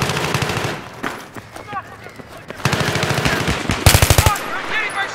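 Video game gunfire, with fast machine-gun bursts and single shots rattling in loud rhythmic runs, one heavy volley hitting near the end, and excited voices talking between the bursts.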